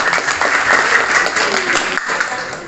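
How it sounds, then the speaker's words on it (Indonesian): Students clap together in a classroom, a steady and fairly loud wash of applause that holds for the whole moment with no pause. "Oke, tepuk tangan."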